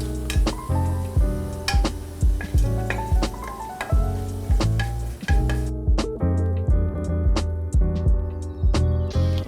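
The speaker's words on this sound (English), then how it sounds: "I've got a bowl with a strainer here. And I'm just gonna dump that into the bowl." Fried garlic for Szechuan noodles is tipped through a metal strainer into a bowl, giving rapid, repeated clinks and taps over a bed of hot-oil sizzle, close and fairly loud, with no talking.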